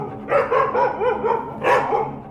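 In a radio drama, a dog barks in a quick series of yelping, whining barks close by, with rising and falling pitch, ending in a louder final bark.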